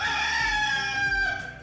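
A rooster crows once, loud and close, a strained, drawn-out call that fades at the end, with no talking over it.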